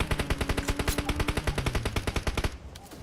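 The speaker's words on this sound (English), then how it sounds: "The gunshots coming in once more" Rapid automatic gunfire in PUBG Mobile during a national championship final, a loud, fast stream of close shots lasting about two and a half seconds before cutting off into a quieter tail.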